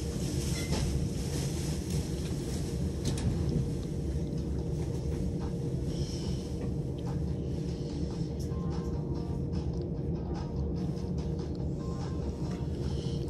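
Steady low rumble and hum inside the driver's cab of a train as it is powered up on the Chichester to Shoreham-by-Sea line, continuous and close with faint clicks and rattles, no talking.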